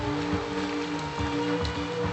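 Heavy rain pours steadily at night beside a highway, a dense continuous wash of drops with low rumbling undertones and no voices.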